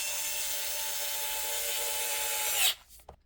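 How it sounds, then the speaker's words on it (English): An electric screwdriver whirs steadily, driving a screw into the cover of a Traxxas X-Maxx RC truck, then stops abruptly, leaving a couple of faint clicks. "So screwing these 8 screws down."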